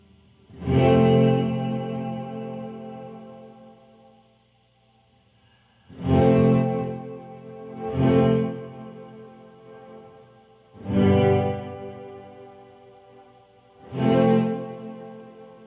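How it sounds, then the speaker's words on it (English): Electric guitar played through a Death By Audio Rooms reverb pedal: five strummed chords ring out one after another, each swelling and then fading with a slight reverb tail, with no one talking. "you can hear that reverb just slightly."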